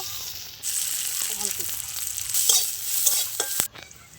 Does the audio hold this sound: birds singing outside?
no